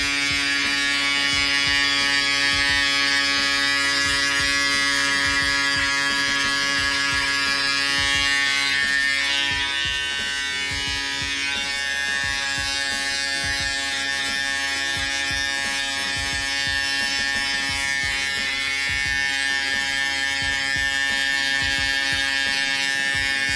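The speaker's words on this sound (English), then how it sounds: "And to finish it all off, I like to use my Profoil shaver." A Profoil electric foil shaver buzzes steadily and close up as it finishes a taper haircut, a continuous motor drone with small shifts as it moves over the hair, with no talking.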